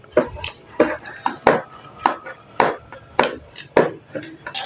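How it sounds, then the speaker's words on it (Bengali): A knife chops through surmo sea fish on a board, cutting it into family-size pieces with about ten sharp, uneven thuds and cracks, close and loud. "আজকে মাছগুলো এখন আমি ফ্যামিলি সাইজ হিসাবে কেটে নিব।"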